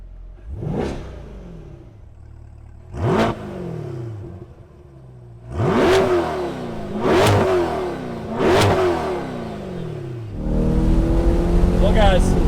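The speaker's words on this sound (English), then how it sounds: "it is time to rev it up" A 2020 Chevrolet C8 Corvette V8 engine revs hard in a series of sharp, loud blips, each rising then falling away, followed by a sustained rumbling idle.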